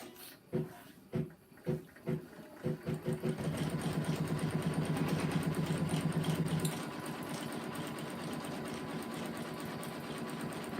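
A Janome Continental 17 embroidery machine with a giant 12x19 hoop stitches through quilt batting, its needle running in a fast steady mechanical rhythm after a few stop-start bursts, close and moderately loud with no talking.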